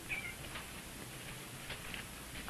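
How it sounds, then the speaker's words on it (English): A cat meows faintly in the background of a scene from a 1960s Star Trek spinoff episode, with a couple of brief, distant mews against a quiet room and no speech. "Nice cat."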